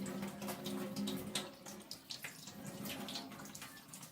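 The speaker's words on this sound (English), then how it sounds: "just putting not plain tap water into the bottle, filling that up." Tap water running into a bottle, a steady close trickle and splash with gently shifting gurgles as it fills, quiet and without any voices.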